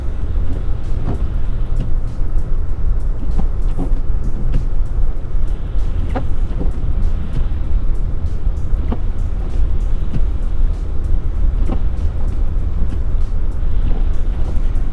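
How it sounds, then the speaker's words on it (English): Honda Accord V6 pushing through a foot of deep snow, a loud steady engine and road rumble with muffled crunching and thumps from the tires throughout, no voices. "the V6 is more than willing, but are the tires able to put down the power?"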